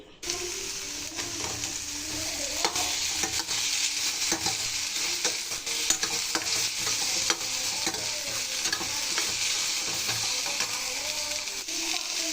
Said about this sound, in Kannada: ನಾನು ಇವಾಗ ಸಾಂಬಾರು ಮಾಡೋಕ್ಕೆ ಎಲ್ಲ ಫ್ರೈ ಮಾಡ್ಕೊತಾ ಇದ್ದೀನಿ ಟೊಮೊಟೊ ಈರುಳ್ಳಿ ಸ್ವಲ್ಪ ಬೆಳ್ಳುಳ್ಳಿ ಹಾಗೆ ಒಣಮೆಣಸಿಗೆ ಸಮೇತ ತೊಗೊಂಡಿದ್ದೀನಿ